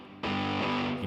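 An electric guitar chord rings through an amp, bright and distorted, sustaining loudly with a washed-out long reverb tail right after a sharp onset.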